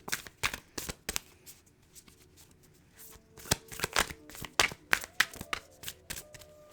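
Someone shuffles a deck of slightly sticky cards by hand, making several quick riffling bursts with short pauses between them. The sound is close and crisp, with no talking.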